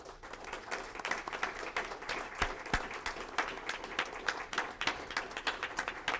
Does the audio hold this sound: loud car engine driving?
no